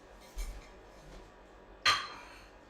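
A utensil clinks against a pan while shrimp are stirred into pesto and potatoes, with two brief metallic knocks, one early and one louder near the end, over a quiet kitchen background.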